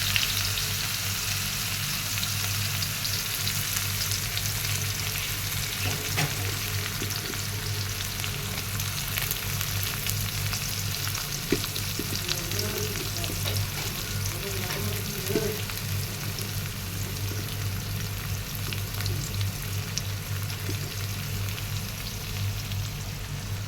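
Onion frying with nigella and cumin seeds in hot oil over high heat, a dense continuous sizzle that holds steady and close, broken only by occasional faint stirring clicks.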